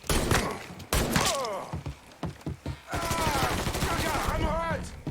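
Gunfire in the video game Mafia 3 Definitive Edition crackles in loud bursts and single shots throughout, mixed with shouting, groans and other game voices.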